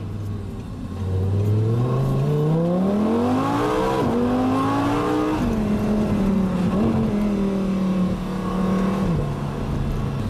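An Audi R8 V10 Spyder's engine revs up through the gears, pitch climbing steadily and then settling, loud and close with a continuous throaty drone and no talking.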